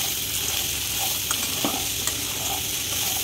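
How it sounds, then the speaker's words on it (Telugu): Chickpeas fry and get stirred in a pan, giving a continuous close sizzle broken by a few soft scraping strokes of the spoon. "ఇప్పుడు దీంట్లో ఈ శనగలన్నీ వేసేసుకుంటున్నాను. వేసేసుకొని బాగా కలుపుకోవాలి."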